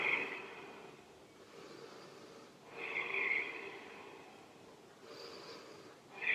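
Slow, deep breaths are drawn through the nose during a yoga quad stretch in a hatha flow, rising and falling in a calm rhythm, close and fairly quiet, with a sharper breath at the end.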